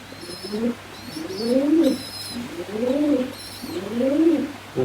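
Pigeons in a loft give four rolling coos in a steady repeating rhythm, close and clear, with faint higher chirps from young birds between them.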